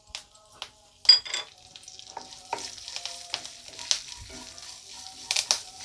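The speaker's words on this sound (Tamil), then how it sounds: "அதில் இடித்து வச்சுருக்க மிளகு ஜீரகம் 2த்தையும் சேர்த்துக்கலாம்." Crushed black pepper, cumin and curry leaves crackling in hot ghee, with sharp pops and spits over a steady close sizzle and occasional stirring clinks, no talk.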